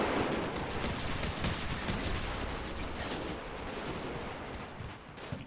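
Dense, continuous gunfire from Combat Mission Shock Force 2, with rapid machine-gun bursts and the heavier thumps of 60mm mortar rounds blending into a steady, loud battle din without pause.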